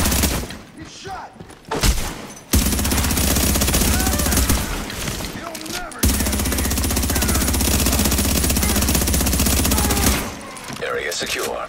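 Rapid, loud video-game gunfire comes in long sustained bursts of automatic fire, broken by brief lulls with scattered shots and faint voices.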